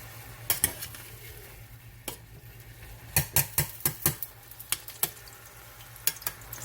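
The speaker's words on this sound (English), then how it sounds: "I'm just going to stir those potatoes right around in there with those green beans" Spoon scraping and knocking around a pot of cooked potatoes and green beans, a run of sharp clinks and scrapes, close and fairly loud, over a low steady hum.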